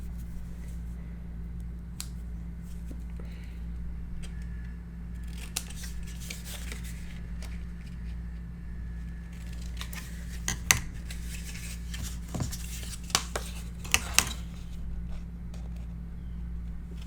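Scissors snip the paper corners of a handmade Yuletide mini album, several sharp close cuts clustering in the second half over a steady low room hum.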